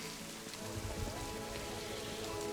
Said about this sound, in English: God, it rains an awful lot here.